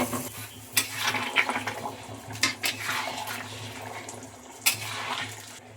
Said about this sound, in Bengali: আপনারা যেরকম ঝোলটা রাখবেন সেরকম জল দিয়ে দেবেন।